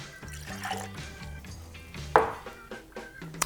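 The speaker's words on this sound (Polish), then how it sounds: "wlewam 60 ml wody" Water trickles and splashes into a glass in short pours, with a bright splash partway through, over a low background hum.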